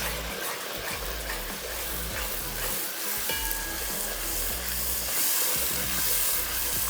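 About 300 grams of tomato puree sizzling and frying in a pan while dal makhani cooks, a steady, close crackling hiss with occasional stirring, and no voices.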